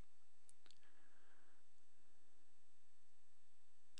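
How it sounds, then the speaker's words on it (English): A computer mouse clicking while ordering a web hosting plan, a couple of quick, close clicks near the start followed by a faint hiss and then near-silence. "we'll click on order now"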